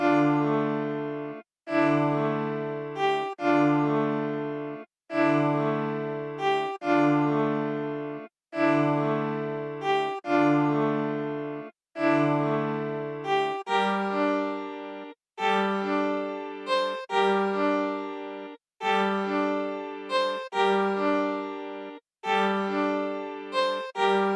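A UK drill piano sample plays a looping melody over sustained chords, repeating in regular two-bar phrases with brief gaps, clear and close with no voices.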